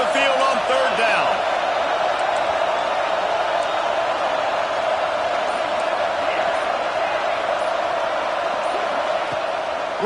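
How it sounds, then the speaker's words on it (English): A home crowd roaring at a football game on third down, with a loud, sustained wall of cheering and noise across the whole stretch, and a commentator speaking over it. "Here comes this home crowd as the defense tries to get off the field on 3rd down."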